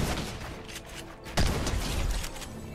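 Purple pump shotgun firing in Fortnite: a single loud, sharp blast cutting through busy game noise, with a short ringing tail.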